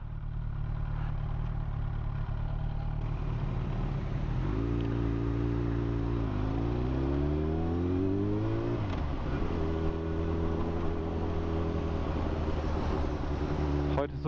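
Yamaha R1 motorcycle, 48 PS, being ridden, a steady engine drone that climbs and shifts pitch through gear changes, continuous and close throughout.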